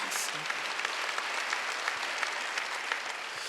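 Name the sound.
congregation applauding in church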